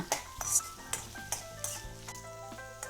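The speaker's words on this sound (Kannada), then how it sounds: "ಇವೆಲ್ಲ ಈಗ ಎಣ್ಣೆಯಾಗ ಹುರ್ಕೊಳ್ಳೋಣ ಕೆಂಪಾಗುತ್ತಕ್ಕ" Onion and garlic fry in oil for Kolhapuri-style misal pav, giving a soft, steady sizzle broken by several sharp clinks and scrapes of a spoon stirring against the pan.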